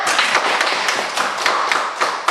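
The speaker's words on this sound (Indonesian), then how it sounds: "Tepuk tangan untuk Alda." A classroom of students breaks into steady, loud applause for a classmate after she reads aloud, the dense clapping continuing for a couple of seconds with no talking.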